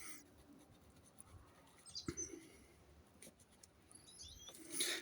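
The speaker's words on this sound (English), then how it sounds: "you can write on your labels what you've done" A pen writes on a plant label for rhodiola cuttings, faint scratchy strokes in short bursts against a quiet background, with a few soft bird chirps.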